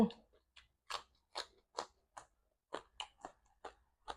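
Loud, close crunching bites repeat in an irregular rhythm, each one sharp and crisp, like someone chewing crispy pork rinds.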